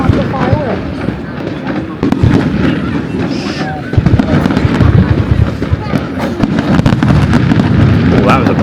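Nits d'Aurades fireworks display over Salou, with dense, continuous booms and crackling bursts from nearby, loud and sustained throughout, while crowd chatter and voices run underneath.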